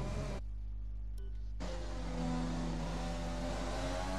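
A race car engine drones steadily in a racing game as the car pulls into the pit lane, with a sustained mid-pitched hum that briefly drops out before returning at a constant level.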